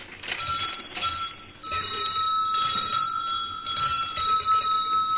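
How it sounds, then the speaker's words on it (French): Small bells being tried out ring in several separate bursts, bright and metallic with a lingering shimmer, close by with a quiet pause between rings. "Monsieur Moignet, les sonnettes sont là, si vous voulez choisir."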